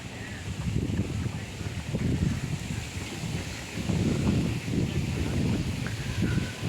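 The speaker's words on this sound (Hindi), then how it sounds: "हवा की सरसराहट सुनाई दे रही है।" Wind gusts outdoors on a morning walk among greenery and fallen flowers, a loud, rushing rumble that swells and eases in waves, buffeting the microphone, with leaves rustling faintly beneath and no voices.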